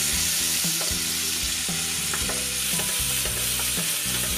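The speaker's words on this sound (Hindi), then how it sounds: "अदरक और प्याज का पेस्ट हम डालेंगे। हल्दी पाउडर भी डालेंगे। सबको मिलाकर 1 मिनट भून लेंगे।" Ginger and onion paste with turmeric powder being stir-fried in a pan, a steady loud sizzle broken by repeated scraping strokes of a spoon, close up with no voices.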